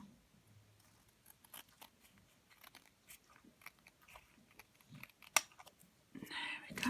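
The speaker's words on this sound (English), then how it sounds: "so just any little bits that you're not happy with, you can trim off" Small scissors snip bits off a handmade black-and-white paper butterfly card, with faint, sparse, scattered cuts over a quiet background.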